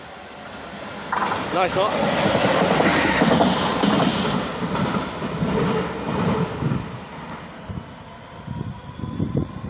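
GBRF freight train passing Sevenoaks station on its way to Tonbridge West Yard: a loud rumbling and clattering pass with a horn-like tone near the start, under brief talk from a nearby voice.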